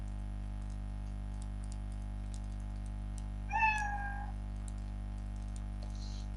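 A single clear cat meow, close and moderately loud, rising and falling over about a second against a steady low electrical hum.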